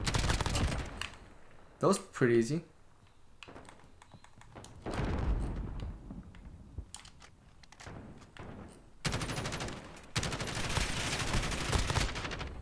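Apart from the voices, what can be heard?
shotgun gunfire in a video game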